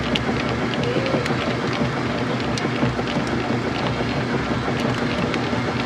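A washing machine in its spin cycle, with a wobbling transmission, makes a loud continuous mechanical rumble and whir with small rattling ticks on top and no speech.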